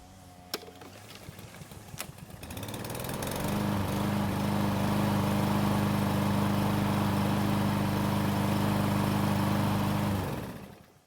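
Troy-Bilt lawn mower engine just restarted while hot, settling into a steady, loud running drone that holds for several seconds after a few starting clatters, then cuts off at the end.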